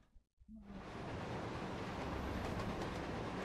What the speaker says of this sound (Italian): Il treno sta rapidamente prendendo velocità.